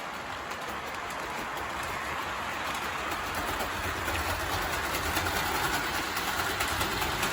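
An O gauge model locomotive strains to pull a heavy load along its track, giving a steady, continuous mechanical rumble and whir at close range that holds even throughout, with no voices.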